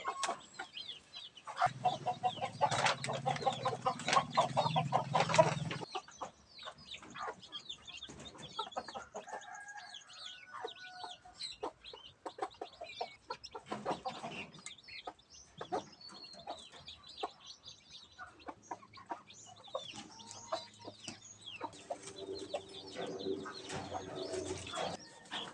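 Chickens kept in a hatchery pen cluck and chatter steadily, joined by other bird calls, with a dense, louder burst of clucking early on before the flock settles into continuous nearby calls.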